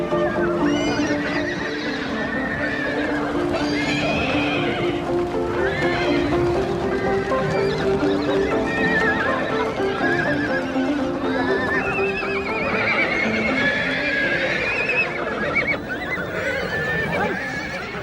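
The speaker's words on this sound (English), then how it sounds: "In early spring, herdsmen gather the horses for breaking in." Mongolian horses neigh and whinny repeatedly during a spring round-up by herdsmen on the steppe, with hoofbeats clopping underneath in a steady, busy mix that stays loud and close throughout.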